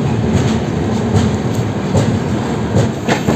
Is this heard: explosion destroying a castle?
no